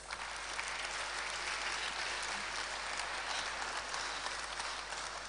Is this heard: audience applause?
yes